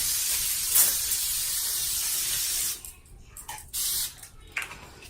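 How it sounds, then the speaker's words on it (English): A continuous fine facial water mist spray hisses for nearly three seconds, then a few shorter spritzes follow in quick bursts, close and crisp. "So I'm going to go ahead and spray that all over the face for some hydration."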